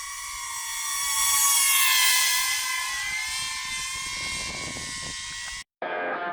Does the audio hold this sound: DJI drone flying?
yes